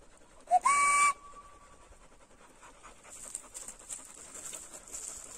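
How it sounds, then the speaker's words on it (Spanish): Dogs panting outdoors on a hot, sunny day in a ravine, a faint, rapid breathy rhythm running through the clip after a sharp, loud whistle blast near the start. "No sé si escuchen el jadeo de los perros"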